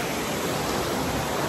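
Steady, loud broadband rush of a river that forks in two, filling the whole moment evenly with no pauses and no voices.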